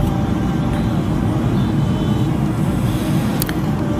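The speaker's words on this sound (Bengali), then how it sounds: "তো বন্ধুরা, আমরা চলছি ঢাকা থেকে ময়মনসিংহের হাইওয়ে দিয়ে।" A car travels along the Dhaka to Mymensingh highway, its low engine and road rumble droning steadily from inside the cabin, with faint passing hiss.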